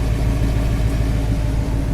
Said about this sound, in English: That engine runs super quiet too